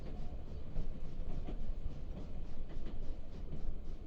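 A train running steadily on rails, a continuous low rumble with faint rhythmic clatter of the carriages, even and unbroken throughout with no voices.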